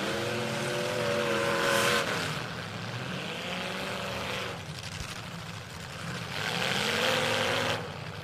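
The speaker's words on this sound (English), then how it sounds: "Adam sticking his bumper in Trevor Jones' machine" Race cars at the Southern Illinois Showdown, engines rising and falling in pitch as cars pass in waves, a loud whining roar heard from a distance.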